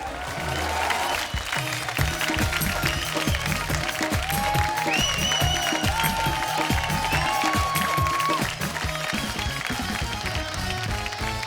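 A TV comedy show studio audience claps loudly and continuously, with cheering and music playing along throughout the sustained burst of applause.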